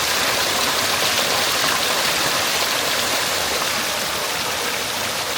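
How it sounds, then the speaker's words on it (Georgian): Clear stream water flowing downhill through a forest, a steady broadband rush close to the listener, continuous and fairly loud with no pauses, and no voices over it. "სუფთა წყალია რა, ესე ჩამოდის."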